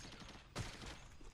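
A burst of gunfire from the roguelike game Caves of Qud: one short, loud blast lasting a fraction of a second, rising out of a steady low background.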